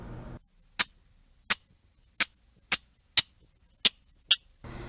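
A series of seven sharp, evenly spaced clicking calls, loud and clear against a quiet background, each a brief dry burst.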